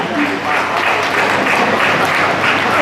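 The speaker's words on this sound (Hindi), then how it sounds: "दर्शक तालियां बजाएं" Audience applause at an environmental award ceremony, a dense, steady wash of clapping that stays loud and even throughout, with faint crowd murmur beneath.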